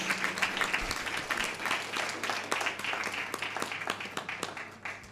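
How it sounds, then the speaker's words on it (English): Applause for the school district at a board of education meeting, a moderate room of people clapping steadily and fairly close for about five seconds before tapering off. "I'd like to give everyone a round of applause in the district for an incredible month."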